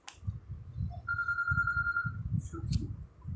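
A phone rings during mobile gameplay with a single steady electronic tone of about a second, fairly faint beneath continuous talking.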